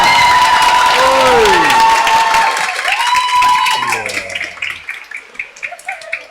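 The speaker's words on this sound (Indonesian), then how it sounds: "Tepuk tangan untuk kor anak-anak kita." A church congregation at a Christmas morning Mass applauds a children's choir with clapping and some cheering. A held tone and voices sound over the start, and the applause thins into scattered claps toward the end.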